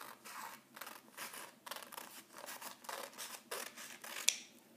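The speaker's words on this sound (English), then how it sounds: "you need to take some scissors or ask a grown-up to then cut out for you this extra piece of paper" Scissors snip through a sheet of origami paper in a series of quiet, close, rhythmic cuts, each a short crisp rasp, with no talk.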